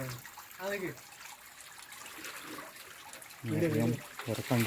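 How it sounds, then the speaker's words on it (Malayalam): Water trickling from rock inside a cave makes a faint, steady wet dribble that carries on beneath people talking nearby. "പാറയുടെ വെള്ളം വരുന്നത് കണ്ടില്ലേ"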